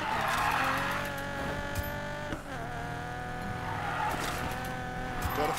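Car drifting in Need for Speed Payback, a racing video game: a loud sustained engine roar with rising and falling revs and continuous tire squeal, briefly dipping at a gear shift before building again.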